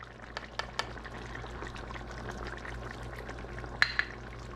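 Soy sauce is poured into pork frying in a pan for cashew pork, a soft steady sizzle with faint liquid pouring and a few light clicks of utensils, fairly quiet and close.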